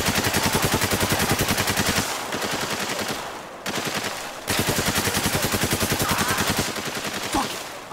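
Sustained automatic gunfire from the video game Spec Ops: The Line, loud rapid bursts of shots in a steady rhythm with brief pauses between volleys, close and alone with no talk.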